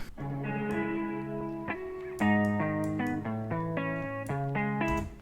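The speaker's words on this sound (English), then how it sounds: "And some reverb." A looping piano chord progression rings out with a washed, echoing tail that blurs the notes together.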